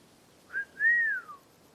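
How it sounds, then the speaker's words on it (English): A short whistled tune, a brief note followed by a longer rising and falling one, clear and alone against a quiet background. "That was the whistle"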